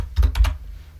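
A few quick keystrokes on a computer keyboard, three close, crisp clicks in a short burst, heard up close and alone.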